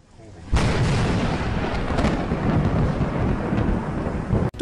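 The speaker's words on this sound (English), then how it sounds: "suddenly one of their vehicles was struck by lightning" Loud thunder from lightning striking a storm chasers' vehicle while they track a tornado, bursting in abruptly and rumbling continuously for several seconds close by.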